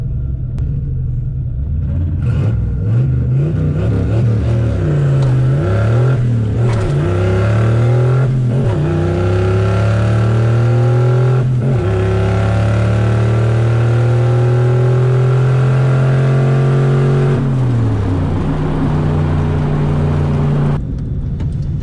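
A carbureted Camaro drag car revs loudly at the launch of a Friday night test-and-tune drag race, its pitch climbing and holding high before dropping, with rising engine roar close by throughout.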